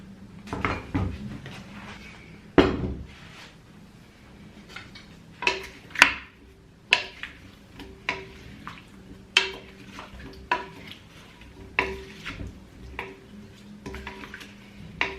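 Greek salad being tossed with olive oil in a bowl, with irregular clinks and knocks of utensils against the dish, a few sharp taps standing out against quiet background, no talk.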